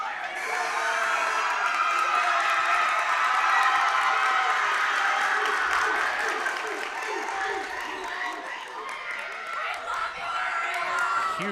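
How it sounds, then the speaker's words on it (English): Crowd at a Carthage vs Lowville high school basketball game applauds a player coming off the bench, steady clapping and cheering with a commentator talking over it. "Huge round of applause for Ariel Prunty off the bench for Carthage"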